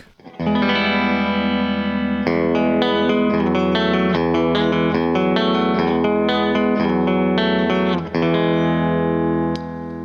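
A clean electric guitar with a split humbucker rings through a Laney IRT Studio amplifier with no compressor, sustained chords and single notes played steadily for about ten seconds with no voices.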